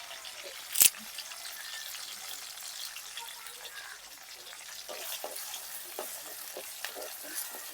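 Curry leaves sizzle and crackle in hot oil in a pan for a village-style small crab curry, a steady close frying hiss with a brief sharp spattering pop early on and lighter crackles later.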